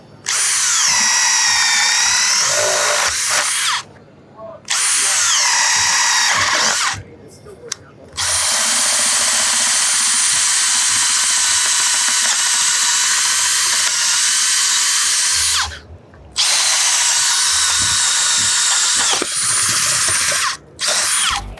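A circular saw rips through clean wood in several long, loud bursts with a high screaming whine, stopping briefly between cuts.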